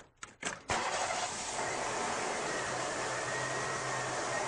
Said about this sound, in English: So I'll start the car, and we'll do that.